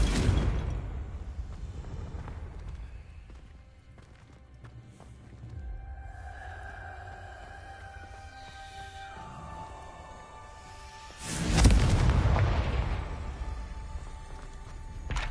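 Confringo fire spells cast in Hogwarts Legacy, a soft blast near the start and a loud, broad explosive burst around the twelfth second, with swishing magic effects and a sustained tonal game hum between.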